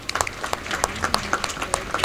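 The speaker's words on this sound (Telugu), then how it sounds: "చప్పట్లు కొట్టండి" A church congregation at a Saint Joseph feast celebration in Medchal, Hyderabad, claps together in a short, dense, steady round of applause.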